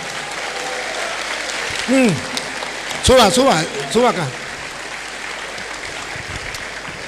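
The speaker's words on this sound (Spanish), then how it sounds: "Fuerte, que se oigan los aplausos." An audience applauds to welcome a guest at a debate between pastors, with a steady crowd clatter throughout. A voice speaks briefly over it in short calls.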